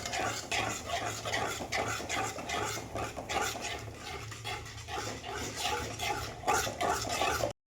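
Curd being stirred quickly into a vegetable gravy for Rajasthani gatte over full flame, a continuous wet churning and scraping in the pan that holds steady throughout and then cuts off abruptly.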